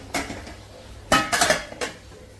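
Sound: lid being placed on a cooking pot

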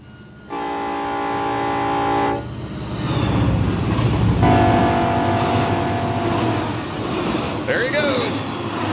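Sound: train passing by in Run 8 Train Simulator video game

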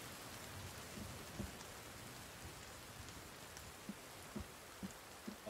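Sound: rain in the video game The Forest

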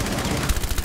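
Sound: gunfire in video game Rainbow Six Siege

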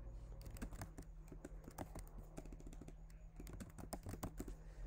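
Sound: typing a command on a computer keyboard

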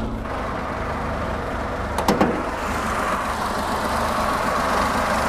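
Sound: Chery QQ 2006 800cc four-cylinder engine running

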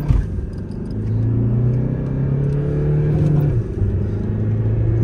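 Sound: Jeep Compass and Tata Harrier cars launching in drag race

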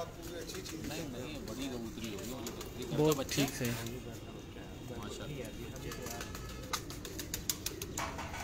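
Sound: pigeons cooing

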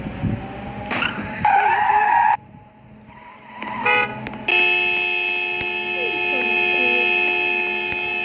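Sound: car driving in Roblox video game

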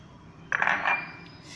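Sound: onion being added into a bowl

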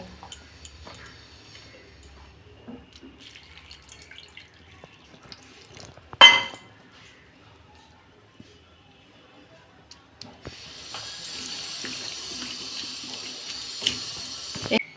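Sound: water running, soaking bitter gourd in salt water

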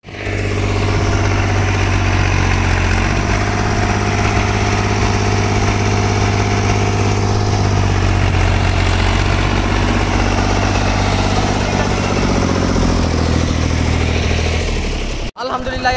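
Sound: tractor engine idling

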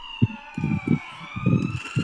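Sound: ambulance siren

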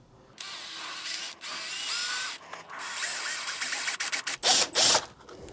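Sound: power drill drilling a hole with a 5/16 drill bit

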